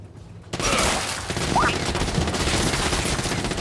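Rapid automatic gunfire from the video game Gears 5 erupts suddenly and keeps going as a dense, loud continuous burst, with effects and chatter mixed into the battle noise.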